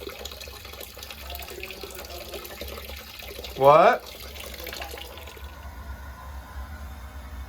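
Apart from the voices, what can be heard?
water draining from a steam boiler drain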